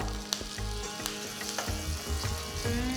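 Tempering of ginger, asafoetida and curry leaves frying in hot oil for Kanchipuram idli, a continuous close sizzle with crackling pops and occasional stirring clinks, no voices.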